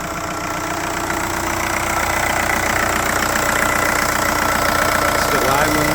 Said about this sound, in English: still idling nicely.